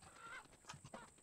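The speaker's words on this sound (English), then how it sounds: "Why are there so many chickens all of a sudden?" Short clucks and honks from chickens in a video game, a few separate squawking calls over a low electronic hum.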